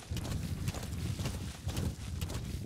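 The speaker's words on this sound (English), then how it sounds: "B-Horse moves insanely faster than I remember him moving." A horse gallops in the video game Metal Gear Solid V, with dense, rapid hoof clip-clops, loud and continuous, over a rushing game soundscape.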